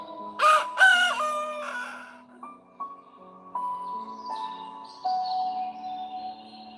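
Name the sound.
rooster crowing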